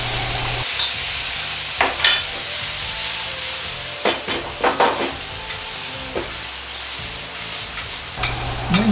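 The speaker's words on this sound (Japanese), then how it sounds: "鍋が乾いてきてから少し油を足して焼いていきます" Yakisoba noodles for a spicy minced meat and cabbage dish keep frying after a little extra oil goes into the drying pan, giving a constant close sizzle with several sharp scraping and clattering bursts.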